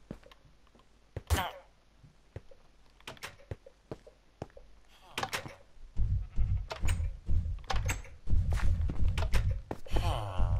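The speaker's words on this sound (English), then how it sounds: "Sheep spawned inside the enclosure." Several sheep bleat in Minecraft among sharp thunks and knocks, with loud close bleats clustering in the second half.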